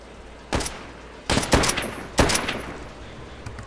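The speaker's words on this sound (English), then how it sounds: "Did I just get points for shooting him?" Three short bursts of automatic gunfire while shooting zombies in Call of Duty: World at War, loud and close, separated by brief pauses with a faint low background hum and no talk.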